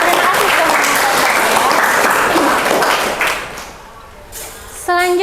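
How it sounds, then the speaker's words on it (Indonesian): Classroom students applauding a classmate during an Indonesian-language lesson, a dense, steady clatter of many hands that thins out after about three seconds, followed by a brief burst of voices at the end. "beri tepuk tangan untuk temannya"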